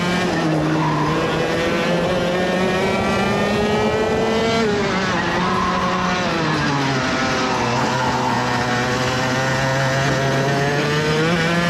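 Competition kart engine screaming through a timed lap, a loud continuous high-revving whine that climbs and drops with gear and throttle changes through corners, close to the driver with no talking.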